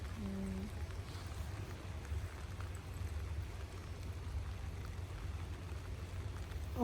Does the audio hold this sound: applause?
no